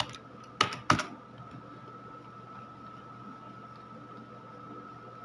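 Two quick clicks on a computer keyboard while Flutter terminal commands are entered, followed by a steady electrical hum and quiet background hiss.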